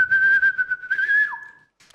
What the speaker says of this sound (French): Des petits sifflements peut-être?